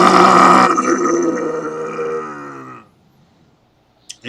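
A voice imitates a large brown bear, first a loud, rough roar-like burst, then a long, deep, harmonic breathing groan that fades out around three seconds, followed by near silence and a brief click at the end.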